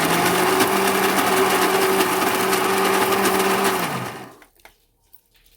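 A mixer grinder whirs loudly and steadily, grinding sweet corn kernels with other ingredients into paste for corn vadas, then winds down and stops after about four seconds.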